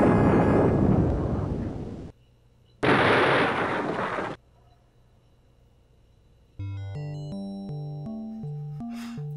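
Two long, loud roaring blasts of a self-destruct sequence in the retro game Might & Magic IV+V: The World of Xeen, each rumbling for about two seconds, followed by a simple beeping chiptune melody.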